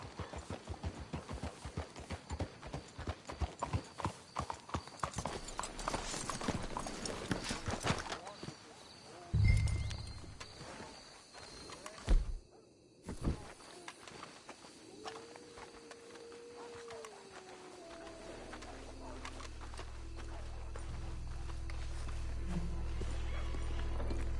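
Horses clip-clop in a PS4 video game, with hoof beats most busy early on, then quieter game sounds, while characters talk over the scene.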